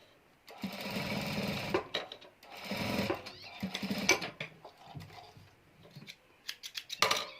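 A sewing machine stitches fabric for a Turkish-style cover in repeated whirring bursts, each a second or two long, separated by short pauses and a few clicks, close and fairly loud.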